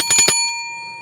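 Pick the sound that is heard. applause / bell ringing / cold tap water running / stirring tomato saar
bell ringing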